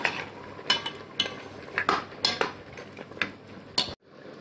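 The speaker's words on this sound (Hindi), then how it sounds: "अब मैं इसको ना थोड़ा भून लूंगी" Green chili paste sautéing in a pot while it is cooked down for a fig, or anjeer, mutton dish; sharp metal spoon clinks and scrapes ring out repeatedly against the pot over a faint background, ending in an abrupt cut.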